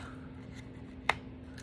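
Scissors snip once through paper along a score line while trimming a small paper treat box, a single crisp close cut amid quiet room tone.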